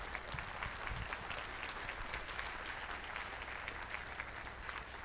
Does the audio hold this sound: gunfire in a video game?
no